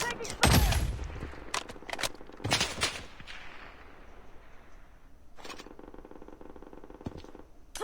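Bursts of gunfire in the BloodStrike mobile shooter game, with a loud close volley early on, further sharp shots following, and a steady rattle of fire near the end.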